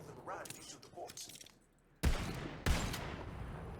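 Two sharp, loud gunshots from Tiny Tina's Wonderlands strike raw quartz about half a second apart, each followed by a short ringing decay, after some quieter game sounds.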